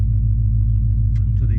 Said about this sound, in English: And then I switched to these Super 10s,